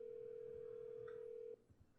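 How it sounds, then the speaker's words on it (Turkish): A phone in GTA Online calling for a helicopter gives a steady, loud single-pitch tone for about a second and a half, then cuts off abruptly, followed by faint background game noise. "Görüyorsunuz bir telefonla helikopter çağırıyoruz."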